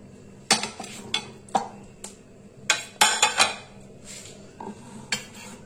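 Boiled banana flower is scooped into a bowl in a kitchen, with a series of sharp metal-on-dish clinks and scrapes from a spoon, irregular and close, some clustered together, with quieter rustling between.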